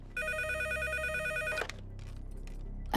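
A house telephone rings with a steady electronic trill, loud and close, cutting off partway before a short quieter stretch with faint movement.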